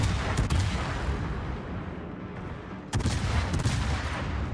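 A US Tier X heavy cruiser, the Annapolis, fires its naval guns in World of Warships. Rapid booming salvos sound fairly close. A dense burst at the start is followed by a lull, and a second burst of gunfire hits near the three-second mark.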